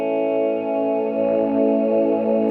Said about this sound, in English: It sounds like this if you hit swells.